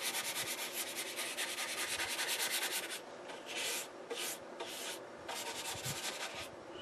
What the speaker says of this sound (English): so I think I'll be fine to just stick with the sanding block.